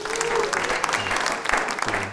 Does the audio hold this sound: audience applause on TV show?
yes